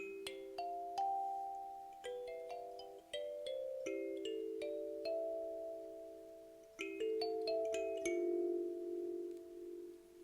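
Plucked wooden kalimba notes ring out one after another, bright and bell-like, overlapping in a slow, gentle melody played close by with no voices.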